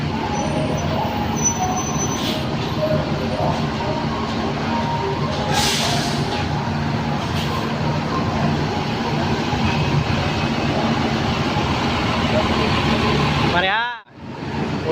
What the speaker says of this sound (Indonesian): Ada 3 unit mobil bus masuk pada sore hari ini.